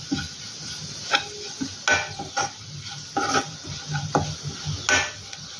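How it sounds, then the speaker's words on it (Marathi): Chili powder and onions sautéed in oil in a pan, with a spoon clinking and scraping against the metal in irregular strokes over a soft, steady sizzle, close by. "आता हे व्यवस्थित असे तेलावर आपण परतून घेऊयात."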